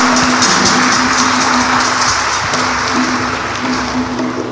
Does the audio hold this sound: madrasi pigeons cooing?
no